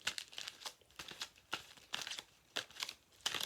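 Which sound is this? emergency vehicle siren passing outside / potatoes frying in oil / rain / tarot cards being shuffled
tarot cards being shuffled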